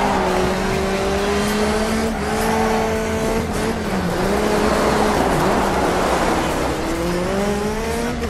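A rally car in the video game Dirt 3 roars continuously, with the engine revving and shifting pitch as tires squeal through slides, loud and sustained for the whole stretch.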